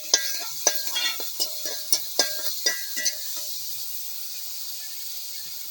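Dried chilies with crushed shallots and garlic sizzling and crackling in hot oil in a pan while cooking jackfruit upperi, a cluster of sharp pops over the first three seconds, then a steady quiet hiss.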